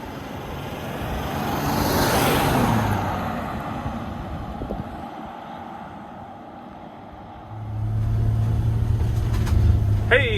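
A 2018 Mercedes Sprinter Winnebago Revel 4x4 van cruising along, its engine and road rumble swelling and easing, then a steady low drone returning near the end, heard from inside the cab with no talk.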